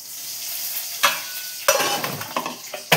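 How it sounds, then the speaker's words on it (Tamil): Mustard seeds hitting hot oil for tempering, sharp crackling bursts and popping sizzle that flare up in several loud surges over a steady hiss, close by, no speech. "கடுகு போடுறேன்."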